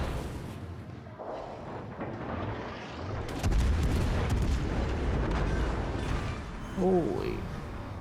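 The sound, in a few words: 8-inch guns firing in video game World of Warships Legends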